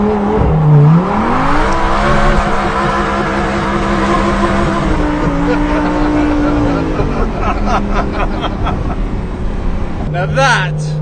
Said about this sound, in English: Now that is a masterclass in driving a Lamborghini LP580-2.